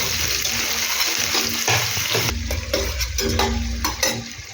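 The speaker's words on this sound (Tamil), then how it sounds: "கொஞ்சம் ஆனியன், போட்டு சாட்டே பண்ணுங்கள்" Onions sautéing in a pan for chicken ghee rice, stirred with a spatula: close, crackling sizzle with repeated scraping strokes and rustling, loud and continuous with no talking.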